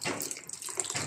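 Coconut water is poured steadily into a rice and jaggery mix, a continuous close splashing gush with no talking.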